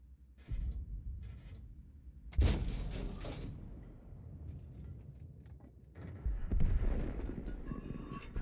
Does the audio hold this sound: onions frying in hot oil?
no